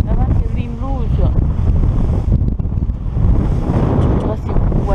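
Strong wind at sea aboard a sailing boat on a new tack, a continuous loud rushing buffet against the microphone with water wash beneath, while people talk briefly.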